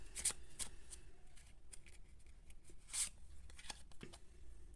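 Tarot cards shuffled by hand, heard close up as quiet, quick riffling flutters and soft slaps in short bursts, with a few sharper card snaps.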